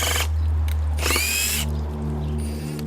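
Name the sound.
Hikoki hydraulic impact driver driving a screw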